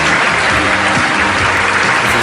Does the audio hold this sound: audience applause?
yes